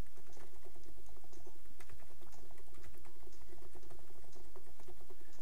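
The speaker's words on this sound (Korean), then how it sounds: "그러면 키보드를 한번 두드려 볼게요." Steady keyboard typing recorded through an ABKO Hacker B980 microphone, a rapid patter of close clicks over faint background music and a soft hiss.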